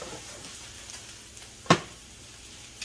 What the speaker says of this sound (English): Stir fry this asparagus